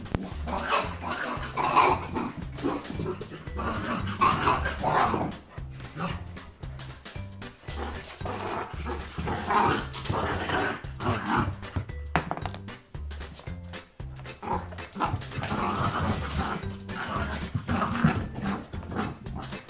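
An English Cocker Spaniel puppy barks and whimpers in restless bursts, close by and fairly loud, with brief pauses between the yelps.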